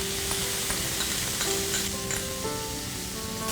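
Onion paste sizzles in a pan on medium heat while stuffed bitter gourd is cooked, giving a steady close crackle with a few faint clicks of stirring.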